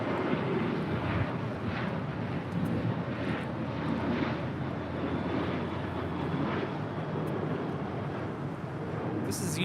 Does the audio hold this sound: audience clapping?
no